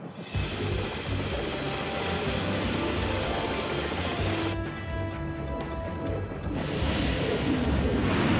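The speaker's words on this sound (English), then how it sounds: "What was that? Engine noise. Funky rotor." A cartoon helicopter's engine and rotor make a loud continuous drone with a rapid, regular rotor chop that shifts partway through, with no talk over it.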